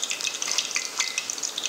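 Steady crackling sizzle of drop donut batter frying in hot oil, with bright spitting pops scattered throughout, close up and continuous.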